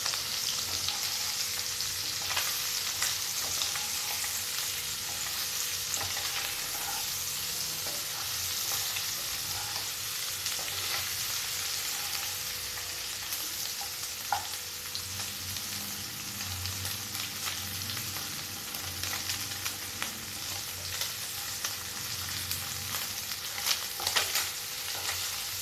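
Egg curry seasoned with turmeric bubbling and sizzling steadily in a frying pan for a long stretch, with faint occasional stirring scrapes and taps and no speech.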